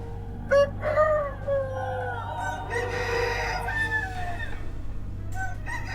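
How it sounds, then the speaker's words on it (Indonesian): Several roosters crowing at dawn in a village, overlapping calls rising and falling over a steady low hum, fairly close and loud with no talk. "Kenapa semua ayam sudah berkokok?"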